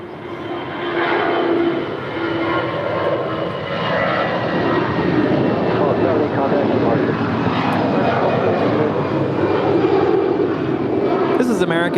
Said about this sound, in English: is American Airlines 1270 departing to Phoenix. It's a 22-year-old Airbus A320.